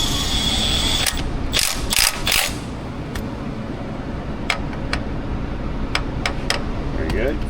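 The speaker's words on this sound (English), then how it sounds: "Let's go ahead and run the bolt down." Hand ratchet running a bolt down during timing belt work on a Toyota 4.7 V8, a steady fast clicking of the pawl with a few louder mechanical knocks, close up, with a voice speaking briefly.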